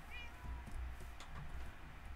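Minecraft cat meowing: a few thin, wavering mews close by over low game ambience and faint background noise, with no talk.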